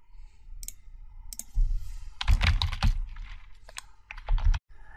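Typing on a computer keyboard up close, with a few scattered clicks followed by a quick dense burst of keystrokes and then a final short run of taps.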